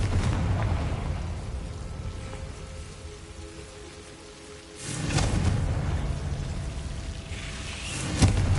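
Fiery Confringo spell blasts in Hogwarts Legacy, heard as two loud, rumbling bursts with a crackling tail, the first fading into a quiet lull before the second erupts and decays.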